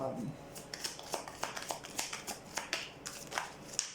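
Tarot cards being handled, shuffled and sorted on a table, giving a run of crisp, irregular flicks and slaps close by, with faint talk underneath.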